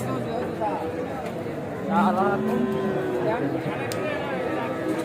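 Cattle at a livestock market where medium Indian bulls and bullocks are sold, with a low moo-like call rising over a busy, chattering crowd and steady market background noise.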